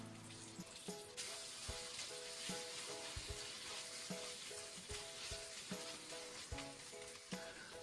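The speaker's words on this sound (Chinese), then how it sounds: "油热以后下入肉丝" Shredded pork hits hot vegetable oil in a wok and sizzles loudly, a dense bright hiss, with a steady string of clacks and scrapes as the strips are stirred apart.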